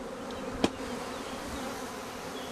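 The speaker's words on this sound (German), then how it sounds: "die brummen schon ganz zufrieden und ruhig" A captured honeybee swarm settled into a hive box, its steady low hum of many wings continuing calmly throughout, with one brief knock or tap near the start.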